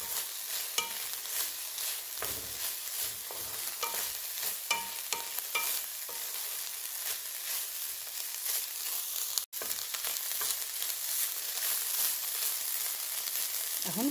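Garlic and ginger paste frying and being stirred in a pan for Ethiopian tibs, a steady sizzle broken by repeated scraping stir strokes, with one brief dropout partway through and no talking.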